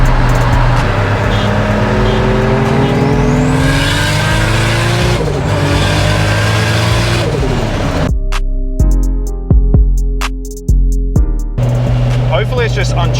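A turbocharged car pulls hard under raised boost, its engine roaring loudly and climbing in pitch before sharp gear-change gaps and bursts; it smoked heavily after the run, and voices are heard alongside.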